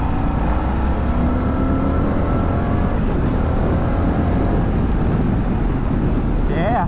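An Indian FTR V-twin motorcycle engine pulls under moderate throttle, a steady low drone mixed with heavy wind rush, with a short rising rev near the end.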